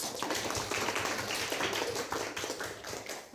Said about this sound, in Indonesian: Tepuk tangan untuk Haikal.